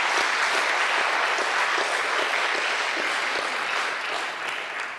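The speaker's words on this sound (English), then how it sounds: "Yeah, give them a round of applause." Steady audience applause at a talk on prisons and punishment, a dense even patter of many hands clapping close and loud throughout, easing slightly toward the end with no voices over it.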